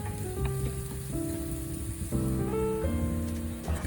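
Chopped shallots crackle and sizzle in hot oil in a pot, a soft steady frying hiss, while tonal music plays over it; no one speaks.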